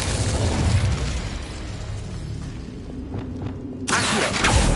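An Incendio fire spell cast in Hogwarts Legacy: a loud, roaring burst of flame that carries on steadily, fades slightly, then flares up again with a fresh fiery whoosh.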